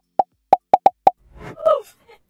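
A Rare Beauty liquid makeup bottle is shaken, giving five quick hollow plops in an uneven rhythm, followed by a brief vocal sound.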